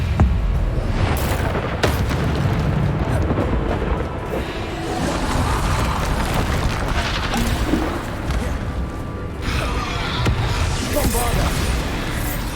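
Bombarda spell explosions in the video game Hogwarts Legacy boom through a busy, loud battle soundscape, heavy blasts mixed with crashes and spell effects, while a voice talks.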